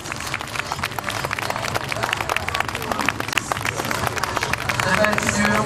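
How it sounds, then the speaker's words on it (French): An audience applauds at a Garde Républicaine open day, with steady, continuous clapping and crowd murmur, moderately loud and swelling slightly toward the end. "Allez, on peut les applaudir."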